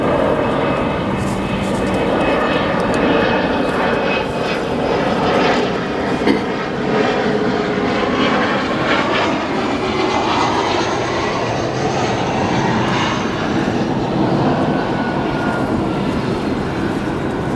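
A 27-year-old Delta Boeing 757 jet departing O'Hare as flight 1477 to Atlanta, its engines building into a sustained, powerful roar with a rising whine that holds steady throughout.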